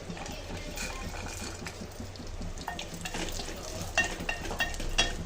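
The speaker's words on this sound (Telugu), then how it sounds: "ఇది కానీ నెయ్యిలో రోస్ట్ చేసుకుందామండి" Raisins and watermelon seeds roast in ghee in a pan, with a spoon stirring and scraping in a fairly even rhythm, a soft sizzle beneath, and a few sharper clinks near the end.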